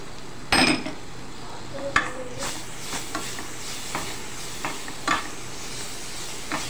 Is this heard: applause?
no